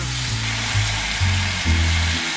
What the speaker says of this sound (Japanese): これがっちり炒めるとやっぱうまいんです